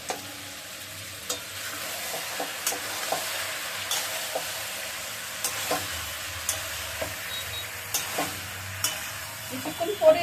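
Meat being stirred in a frying pan during home Bengali-style cooking, with steady sizzling and repeated soft scraping clinks of a spoon against the pan, fairly close and clear.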